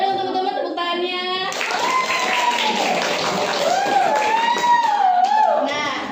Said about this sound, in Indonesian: Boleh dong teman-teman tepuk tangannya